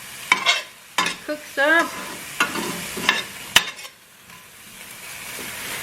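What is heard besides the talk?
stirring fettuccine sizzling in a pan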